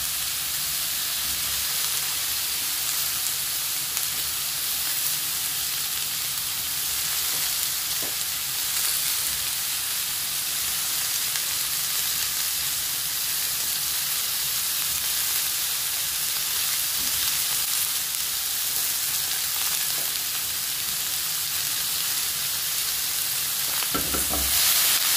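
Broccoli sizzles steadily in a hot pan among roasting vegetables, a constant close frying hiss that runs unbroken for the whole stretch with faint stirring knocks and no talk.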